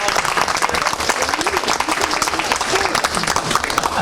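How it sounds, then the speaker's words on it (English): An audience at a workshop gives a round of applause honoring a longtime colleague, a brisk, uneven clatter of clapping hands with voices speaking and murmuring through it. "big round of applause for Ronnie"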